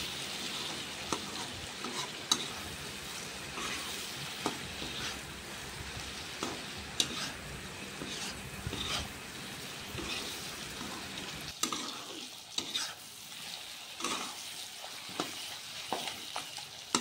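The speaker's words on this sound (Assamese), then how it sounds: "মছলাখিনি দিয়াৰ পিছত ধুনীয়াকৈ মাংসখিনি লৰাই দিম।" Chicken stir-fried with spices in a pan for smoke broiler chicken with joha kumura, a steady close sizzle broken by irregular scraping clicks of stirring throughout, with no talk.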